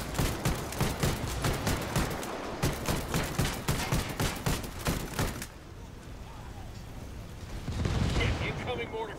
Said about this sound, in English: Shit, incoming mortar fire.